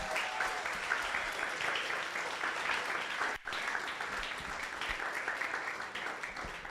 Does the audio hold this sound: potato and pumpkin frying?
no